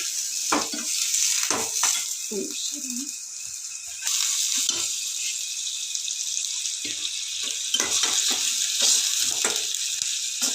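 Fish fries in oil in a home kitchen, giving a continuous bright sizzle with brief knocks and scrapes of stirring now and then.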